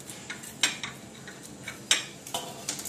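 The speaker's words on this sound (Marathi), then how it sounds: "तुम्हाला मी चाकूने दाखवतो, जरा कापून" A knife cuts through a hot, crisp homemade samosa, making a few sharp metallic clicks and taps close by. A soft background hiss runs underneath, and no one speaks.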